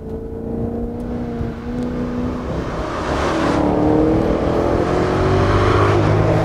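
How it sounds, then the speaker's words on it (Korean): Exhaust note of a 2017 Maserati GranTurismo Sport, a steady loud engine drone that rises in pitch and swells slightly as the revs climb, heard close and alone without talk. "마세라티라고 했을 때 이제 매력적인 부분이 있다면 바로 이 배기 사운드"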